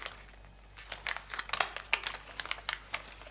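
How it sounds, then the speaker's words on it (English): Paper being creased in an origami inside reverse fold, close, faint crinkles and soft crackling taps in an irregular scatter, no voices. "Do an inside reverse fold here,"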